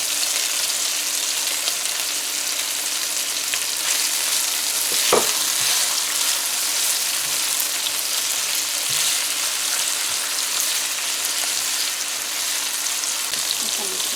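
Saltfish frying in a pan with tomatoes and onions, a continuous hissing sizzle with one brief clatter partway through, steady and close, with no one speaking.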